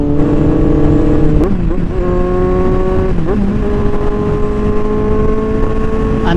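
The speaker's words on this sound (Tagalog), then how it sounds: "Ang tining ng tambutso," A Kawasaki Z1000R motorcycle engine rumbles loud and close, its exhaust holding steady tones, dipping briefly twice as the revs shift, then settling back into a constant drone.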